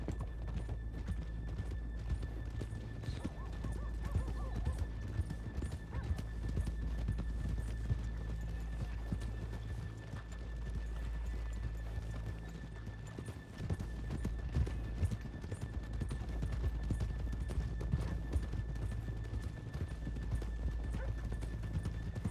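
Horses in Red Dead Redemption 2 trot with steady clip-clop hoofbeats, occasionally neighing, over a low continuous background rumble.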